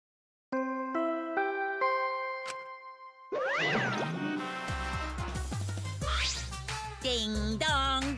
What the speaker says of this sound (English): Ding dong dong ding! A body has been discovered!